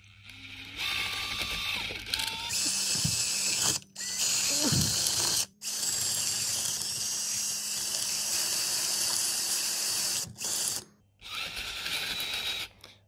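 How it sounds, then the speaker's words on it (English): Power drill fitted with a bit, flattening the surface of a Nissan R33 R200 limited-slip differential housing, whirring close up in several bursts broken by short pauses, with faint mechanical clicks. "just to use it with a drill and make that surface as flat as possible"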